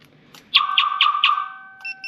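A Viper car alarm system arming: a quick series of four sharp electronic chirps, loud and close, followed by a brief higher beep, with no talking.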